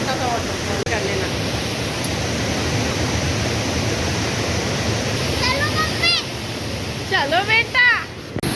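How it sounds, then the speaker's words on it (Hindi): A small waterfall rushes in steady rain at Munnar, a broad, constant roar close by, with people talking over it near the end. "यहाँ पर हम लोग हैं वाटरफॉल के पास"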